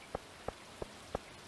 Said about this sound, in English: The raindrops are really loud on the metal roof of the trailer.